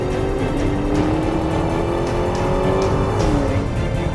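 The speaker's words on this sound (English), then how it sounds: "that's the best possible launch this car can do at the surface" A car launches hard from a standstill at the start of a drag race between a Dodge Charger SRT Hellcat and a Tesla Model 3 Performance, with a steady rising drive tone and road roar heard up close, without talk.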